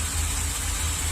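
A Chevy Express van engine idling with a misfire, a steady close rumble with a faintly uneven low pulse and no voices.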